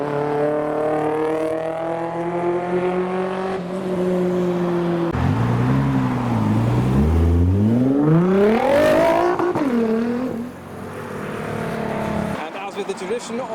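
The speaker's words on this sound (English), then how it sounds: "Toyota Mr. 2." A Toyota MR2 driving past at a car show, its engine note rising and falling as it revs by fairly close, with people talking over it.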